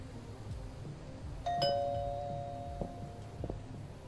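A doorbell chimes once, a clear ringing tone that lingers and fades against a low background hum.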